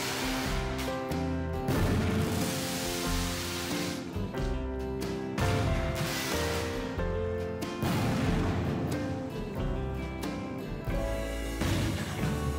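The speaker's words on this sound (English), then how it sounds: "Next up is the Black Hat 5-inch, double break, multiple effect," Black Cat Black Hat 5-inch double break multiple-effect artillery shells bursting in a continuous barrage of booms and crackles, dense and loud throughout with overlapping blasts.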